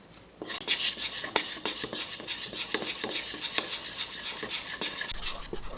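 Dashi soup is being mixed into okonomiyaki batter in a bowl, with a rapid run of close scraping, whisking strokes and light utensil clinks that continue steadily throughout.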